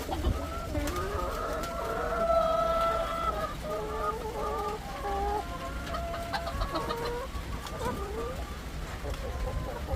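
Heritage chickens clucking and cooing on a farm, with several birds making continuous overlapping calls close by while a person speaks quietly at times.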